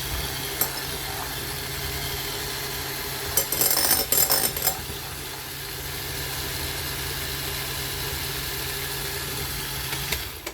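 A spoon stirring batter in a bowl, a cluster of quick scraping clinks midway over a steady low background hum, otherwise quiet with no talking.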